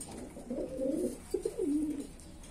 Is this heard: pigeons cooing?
yes